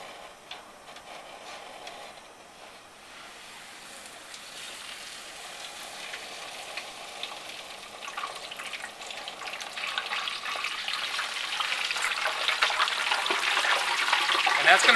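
A whole turkey is slowly lowered into hot frying oil, starting with a faint bubbling that builds into a louder, dense crackling sizzle with scattered pops as more of the bird goes under, and no talking.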